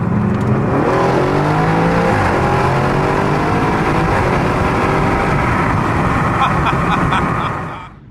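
Audi RS7 with a full straight-pipe Fi exhaust, loud and close, engine revving and climbing through sustained high-pitched wails for about eight seconds before cutting off abruptly.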